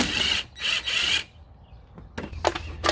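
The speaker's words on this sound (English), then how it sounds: "I have a 9/32 that I'll loosen up all these hose clamps" Ratchet clicking as it loosens hose clamps on the airbox of a SAAB B284 2.8T V6, two bursts of rapid close clicks separated by a quiet pause, then shorter clicking strokes.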